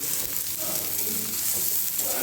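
Steady, loud sizzling and frying of vermicelli upma ingredients, including beetroot, kale and carrot, roasting in a pan, continuous and close with no talk.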